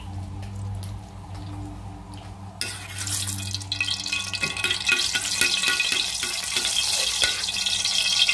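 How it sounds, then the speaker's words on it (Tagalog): Cooking oil pours into a pan for sautéing upo, a low hum giving way to a steady, moderately loud hiss and crackle as it heats, with no talking. "Maglagay ako ng mantika."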